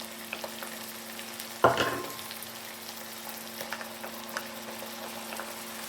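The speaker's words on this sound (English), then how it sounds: "Sauté for a minute to cook out the rawness and release their deep aroma." Onions sautéing with ginger paste and garlic paste in a pan: a soft steady sizzle with a sharp burst of spattering as the pastes hit the hot oil, then settling back to a quiet fry with light stirring clicks.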